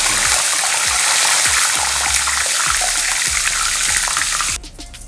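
Curry leaves dropped into hot oil in a kadai, giving a loud, steady sizzle and crackle that runs for several seconds before suddenly dropping to a quieter hiss near the end.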